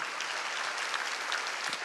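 Dense, steady applause from a large audience at a church evangelistic rally in an indoor gymnasium, a continuous wash of clapping with no break.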